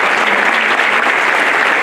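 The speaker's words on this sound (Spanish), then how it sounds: "a quien le pedimos que le demos un fuerte aplauso también" A loud, dense burst of audience clapping at a political party event honours a municipal commission secretary, steady throughout the short stretch.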